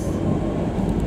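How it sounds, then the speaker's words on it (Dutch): A GVB metro train rumbles through a station with a loud, steady, low roar, heard close by for about a second. "En daar gaat de metro."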